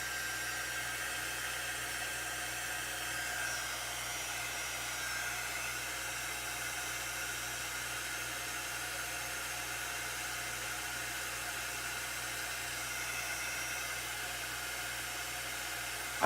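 A hair dryer blows on wet paint on a small pumpkin, a steady even whoosh that runs on unbroken, loud and close, with no talking.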